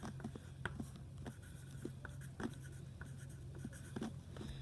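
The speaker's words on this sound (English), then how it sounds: "So the first thing I'm going to do is put my name on the paper." A pencil writes a name on paper with soft, close scratching strokes in short irregular bursts against a quiet background.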